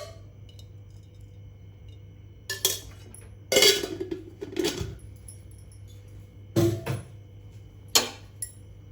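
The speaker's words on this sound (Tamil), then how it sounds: "ஒரு கடாயை அடுப்பில் வச்சு அதில் கொஞ்சமாக செசமி ஆயில் விட்டுட்டு" A kadai pan set down on a kitchen stove with sesame oil poured in, giving several light metallic clinks and knocks spaced irregularly over a steady low hum.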